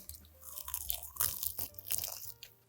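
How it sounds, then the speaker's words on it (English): Close, loud crunching as teeth bite into and chew a crispy baked chicken wing coated in cornstarch, with several sharp crackles. "So now the taste test really tells all. That is a very, very, very crispy wing."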